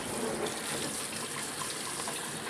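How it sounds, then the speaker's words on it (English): Tap water runs steadily over cooked baked beans, potatoes and hamburger in a strainer, a continuous close hissing splash with no talking. "I run some water over it here"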